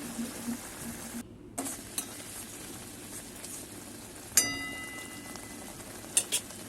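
Mango pickle simmering in a pan on low flame gives a soft bubbling sizzle, with scattered light clinks and one sharp ringing metallic tap.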